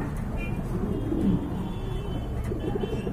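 A pigeon at a market of pigeons for sale coos low and soft, its murmuring calls mixed into a dense hum of background noise and distant traffic.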